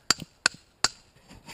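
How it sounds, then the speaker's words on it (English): Three crisp, evenly spaced blows from a small hammer drive a wooden stake into the ground while a willow hurdle privacy fence is being built. Each strike rings sharply and up close, followed by a brief, softer shuffle. "It's a silly little hammer."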